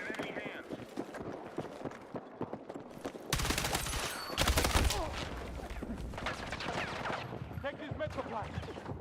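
Gunfire in the video game Battlefield, bursts of rapid shots and a loud blast amid battle noise, with a player talking over it.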